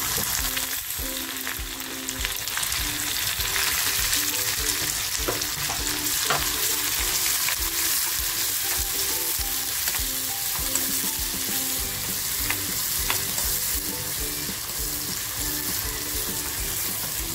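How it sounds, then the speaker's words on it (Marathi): Green chillies frying in hot oil for a tomato chutney, giving a loud, dense, continuous sizzle that holds steady throughout with faint stirring underneath and nobody speaking. "मिरच्या सुद्धा छान फ्राय झाल्यात तेलामध्ये।"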